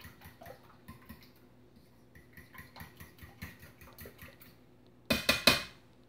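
Chocolate muffin batter gets mixed in a bowl, a run of soft rhythmic clicks and taps of a utensil against the dish, ending in a few louder clattering knocks; no one speaks.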